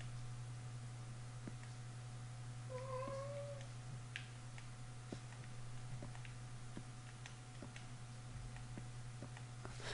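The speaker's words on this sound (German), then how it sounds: "Die Katze ist immer noch da." A single short two-note cat meow from the Minecraft video game rises briefly from a steady low electrical hum and faint ticking, heard alone with no talk.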